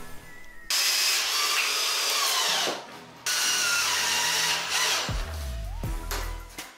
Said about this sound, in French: Il faut que je visse dessus le bord là sur le coin.